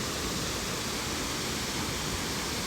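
A waterfall in Ohio running heavy after flooding, a constant, dense roar of falling water with no breaks, filling the whole clip close and loud.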